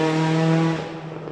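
A rally car engine passing on the SS20 Wairoa stage, a loud steady droning note with strong harmonics that drops and fades after about a second as it moves away.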